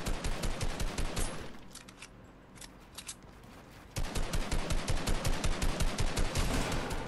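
Rapid shotgun and gunfire bursts in Fortnite, a dense loud volley at the start, a quieter stretch with scattered shots, then another sustained barrage of rapid repeated blasts.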